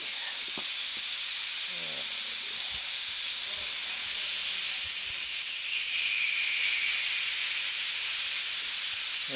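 A tire valve on a rim with a leak, its core being removed with a coring tool, giving a loud continuous hiss of escaping air with a rising whistle partway through.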